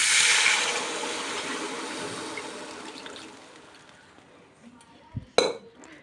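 Water pours with a splashing rush into a pot of lightly fried vegetables, tapering off, followed by a couple of sharp metallic clinks as a lid goes on; a voice talks quietly.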